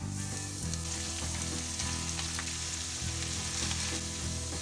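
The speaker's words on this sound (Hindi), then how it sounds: "अब इसके अंदर ये मालाबार साग है, ये डाल दूंगी मैं।" Chopped Malabar spinach tipped into golden-brown onions in a hot pan, giving a loud steady sizzle and crackle of frying with stirring scrapes throughout.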